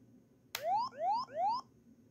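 Siren-style arming tone from a Jumper T12 Pro radio controller: three rising electronic whoops in quick succession, clean and close with no talk.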